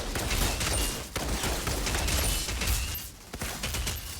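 Rapid gunfire rattles in Outriders, a dense fusillade of shots crackling continuously with brief pauses, loud and close amid chaotic combat noise.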